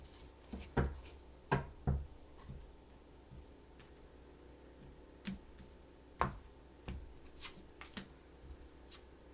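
Tarot cards are shuffled in short bursts, crisp riffling snaps spaced irregularly over a quiet background, close to the microphone.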